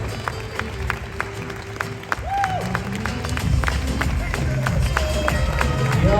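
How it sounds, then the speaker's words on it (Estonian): Audience applause for competitors at a Women's Fit model semi-final, a crowd clapping that swells and grows denser, with an announcer's voice heard over it. "Suur aplaus võistlejatele!"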